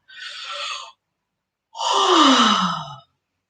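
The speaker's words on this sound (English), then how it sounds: "Have a yawn, so you get a feel for your soft palate." A person yawns with a short breathy inhale, then a longer open-mouthed exhale that slides down in pitch, close and clear against silence, as part of a vocal warm-up.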